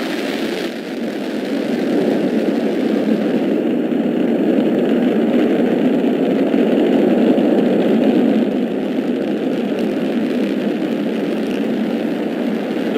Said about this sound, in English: And liftoff at dawn, the dawn of Orion, and a new era of American space exploration.